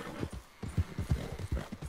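Horse hooves clip-clop in Red Dead Redemption 2 as a quick, uneven run of soft thuds, close by but fairly quiet.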